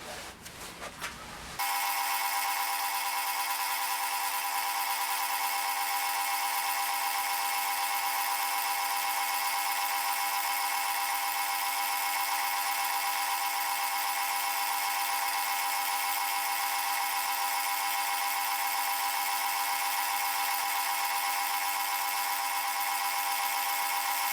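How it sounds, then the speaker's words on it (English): A metal lathe is turning down a pulley, producing a loud, steady high-pitched machining whine that holds evenly from start to finish after a brief onset. "we'll put it back in the lathe and we'll take some more material off"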